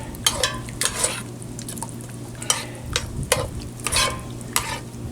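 A spoon stirs red gravy in a cast iron pan with a series of close scraping sweeps and soft knocks in an uneven rhythm, over a low simmering sizzle.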